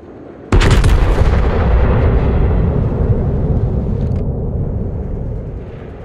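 Battleship main guns firing in World of Warships on the Richelieu: a single massive, sudden boom followed by a long rumbling roar that slowly fades over several seconds.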